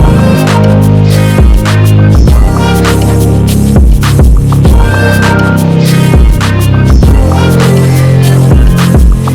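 Full beat section built for a beat battle: lengthened sustained chords over a long held bass, an open hi-hat washing on the offbeats and steady drum hits, loud and dense throughout.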